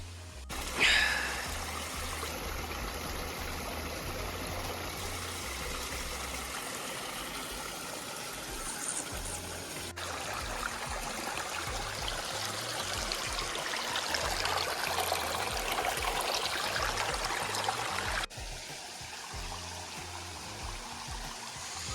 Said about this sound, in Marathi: ही छोटीशी नदी आहे